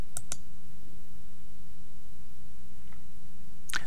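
A few sharp mouse clicks while saving a Contact Form 7 form in a WordPress dashboard, two close together at the start and one at the end, over a faint steady hum.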